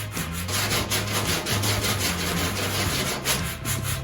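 Hand sanding the metal body panel of a 1974 VW Thing, a loud, steady abrasive rasp of close strokes with no talking over it.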